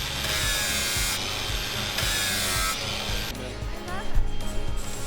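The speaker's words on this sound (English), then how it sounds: "I'm just putting some little notches in these boards so they'll sit flat on top of the welds." Saw cutting small notches into wooden boards, a rough, rhythmic rasp in repeated bursts broken by short pauses, close and loud with a person speaking over it.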